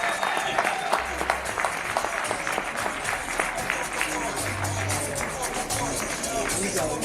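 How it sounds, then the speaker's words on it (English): A crowd applauds with dense, continuous clapping, fairly distant and steady for several seconds, with a murmur of voices underneath. "Let's give our judges a round of applause."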